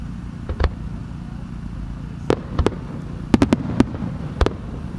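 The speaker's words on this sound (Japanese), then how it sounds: "大きな花が夜空を覆い尽くすように一瞬咲き、その爆発音は大地と空気を震わせて" Fireworks at the 2018 Omagari autumn fireworks festival in Japan burst in a scattered series of sharp booms, a couple early, then a tight cluster of cracking reports, over a low, steady outdoor rumble.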